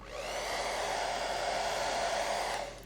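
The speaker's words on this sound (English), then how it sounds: "we're just gonna give this the hair dryer again" Hair dryer blowing steadily on a 1/144 scale model kit during weathering work, a close, loud, even whoosh that holds for about three seconds and cuts off at the end.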